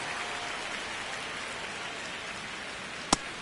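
Steady rain falling over a baseball stadium in MLB The Show 26, a continuous even hiss, with one brief sharp click near the end.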